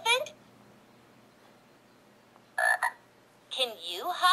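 Croaking frog sound effect from a Fisher-Price Laugh & Learn Smart Stages toy tablet, a short electronic croak at the start and again near the end, with a voice speaking in between.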